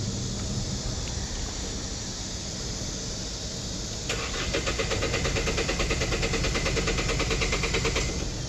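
A Hyundai Porter 2 truck with 305,000 km and an injector fault cranks without firing: the starter motor chugs in a fast, even rhythm after a stretch of steady background hum, close and loud.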